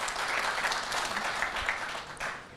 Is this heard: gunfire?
no